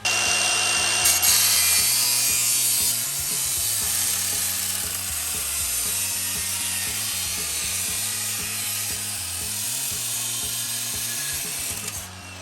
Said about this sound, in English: We need to cut off about that much from the tin can.